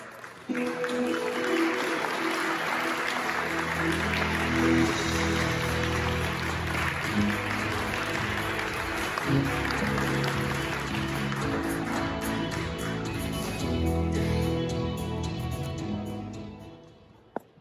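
An audience at a Hyundai Motor Group hybrid system technical briefing applauds to welcome a researcher, a long, dense wash of clapping from a crowd that holds steady before tapering off near the end.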